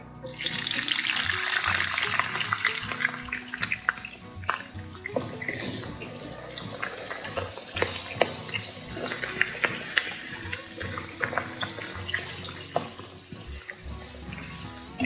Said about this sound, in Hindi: तो ऑयल हमारा हो चुका है गरम, तो अब हम आलू को करेंगे इसमें फ्राई।